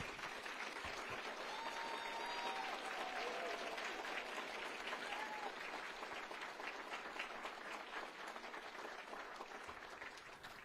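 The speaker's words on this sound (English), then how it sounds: "Everybody, nice round of applause" Steady, sustained applause from an audience at a governor's awards ceremony as the nominees stand, broad and even throughout, with a few faint voices underneath.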